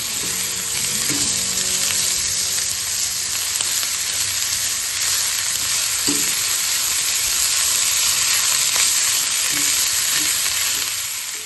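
Radish leaves being stirred and fried in a pan, a loud, continuous sizzle up close, broken now and then by soft scraping and knocks of the spoon.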